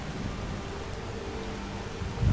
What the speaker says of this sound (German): Wenn wir hier so durch den Regen laufen, ganz panisch.